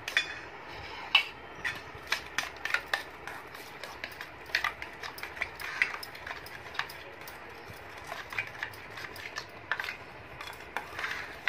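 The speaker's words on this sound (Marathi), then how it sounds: "आता आपण हे सर्व व्यवस्थित दह्यामध्ये टाकून घ्यायचे आहे, व्यवस्थित मिक्स करून घ्यायचे" A spoon clinks and scrapes steadily against a bowl while spices, rock salt and salt are stirred into curd, giving a quick, irregular run of light metallic taps heard close up.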